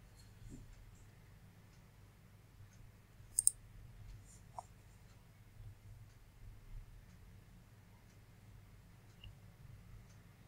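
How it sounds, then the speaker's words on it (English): A few soft, isolated computer mouse clicks sound close by in an otherwise quiet room, with one sharper double click partway through while logging into an Azure account. "I click on next and I'll give it a password"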